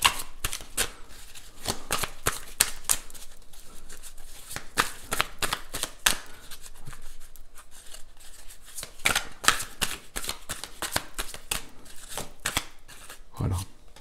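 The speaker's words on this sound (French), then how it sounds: "Je prends d'abord 3 cartes." Tarot cards are shuffled by hand at close range, giving a rapid run of crisp riffling snaps and slaps that carries on with brief pauses throughout.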